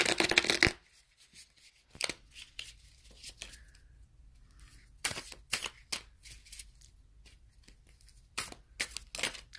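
Tarot cards are shuffled close up in quick riffling bursts, a loud flurry at the start and more crisp shuffles later, with quiet pauses and small handling noises between.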